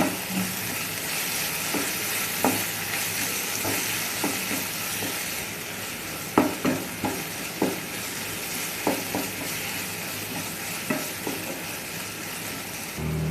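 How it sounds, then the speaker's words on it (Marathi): Garam masala and red chili powder fry in a pan with a steady, close sizzle, while a spoon scrapes and taps the pan in irregular strokes, clustered in the middle. "सगळे मसाले चांगले फ्राय झाले"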